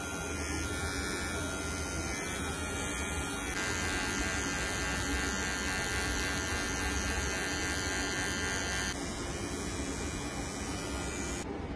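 A rechargeable electric eyebrow hair trimmer runs steadily and close for the whole stretch, its motor buzz holding constant with small shifts in pitch partway through.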